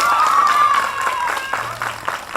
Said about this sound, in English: Please, one more time, give him a big round of applause.